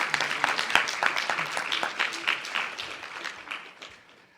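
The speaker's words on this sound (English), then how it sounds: "Maybe one more round of applause." An audience claps at an Eshwaramma Day celebration with a full, even round of applause that gradually fades away.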